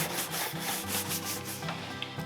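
Wax is rubbed onto the toes of pebble grain leather boots, a close, steady back-and-forth rubbing and scrubbing with a rhythmic, buffing texture.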